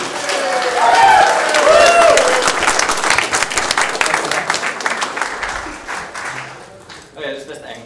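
Audience applause for Art Deco at an outsider art event, a dense burst of clapping from a sizeable crowd that swells, holds and then fades out, with a few cheers and voices mixed in.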